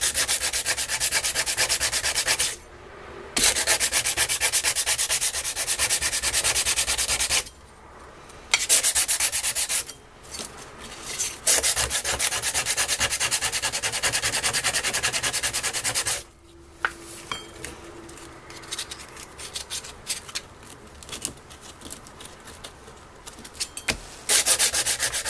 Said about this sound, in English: Maybe try some heavier grit. This is 60